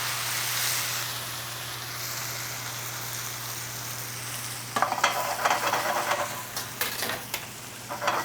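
Shredded potato for rosti dropped into a hot smoking pan, a steady faint background hiss that then erupts into a brighter, crackling sizzle with scattered sharp pops.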